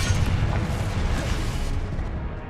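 A Confringo fire spell blasts in Hogwarts Legacy, a loud, dense burst of rumbling low-end roar that holds steady for a couple of seconds with crackling noise on top, no voices.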